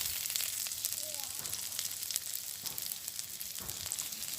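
Onion sizzling in hot oil alongside whole garlic in a village kitchen, a loud, continuous close-up frying hiss with scattered pops and a few soft stirring scrapes.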